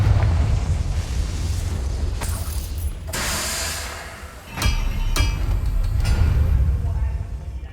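A Confringo blasting spell explodes in the Hogwarts Legacy video game, sending out a sharp burst with a crackling blast tail, followed by further impacts over a rumbling low-end game ambience.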